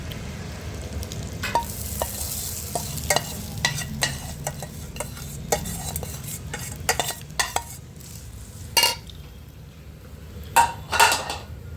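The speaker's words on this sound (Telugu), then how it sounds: "సో ఇప్పుడు మనం పోయి పోపు కలిపేసుకుందాం." A spoon stirs a tempering of seeds into cooked rice for lemon rice in a metal pot, giving repeated sharp clinks and scrapes against the pan over a soft sizzle, with no talking.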